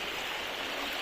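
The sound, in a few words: river water flowing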